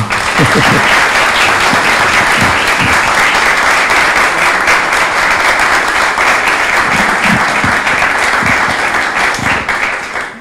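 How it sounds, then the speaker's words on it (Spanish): A full room applauds the author at a book launch, loud sustained clapping from a close crowd lasting the whole stretch, with a few voices faintly underneath. "Uma salva de palmas aqui para o Walter."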